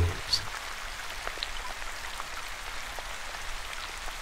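Light rain falls steadily on wet pavement, a soft, continuous hiss dotted with scattered drops, quiet and even throughout.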